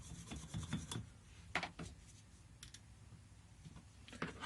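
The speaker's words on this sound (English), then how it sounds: "So I'm just going to give those screws a quick scrub." A brush scrubs the screws of a vintage forged Husky H5125 ratchet made in USA, producing close, gritty rubbing strokes in short bursts with soft scratchy scraping between them.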